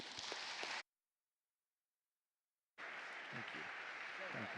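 An audience applauds to welcome a speaker, the clapping dense and steady for under a second, then cut off by a stretch of silence before the crowd's clapping resumes and carries on to the end.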